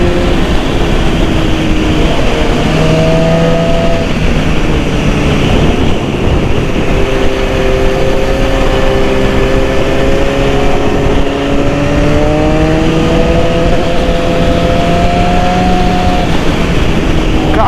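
A 2010 BMW S1000RR four-cylinder sport motorcycle rides along with a loud, steady engine drone, rising and falling in pitch as it revs through the gears, with wind rush throughout and no clear speech.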